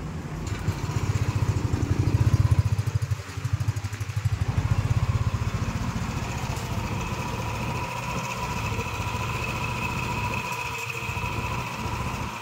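A Yamaha Aerox/NMAX scooter with a 177cc bore-up kit, stock ECU and stock pipe runs close by, a steady buzzing idle that revs slightly early on, then settles into an even drone.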